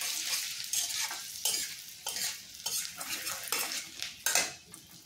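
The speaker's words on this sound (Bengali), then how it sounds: "তাই একটু আমি রসুনটা দিচ্ছি এখানে। এটা দিয়ে একটু আমি নাড়িয়ে নিচ্ছি।" Garlic frying in oil in a pan for chili chicken, with a hiss of sizzling under repeated scraping strokes of a spoon stirring against the metal, several distinct bursts in an uneven rhythm, close by.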